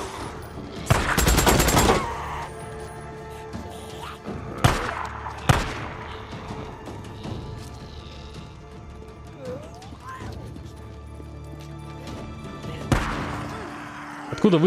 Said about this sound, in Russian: Откуда выстрелы?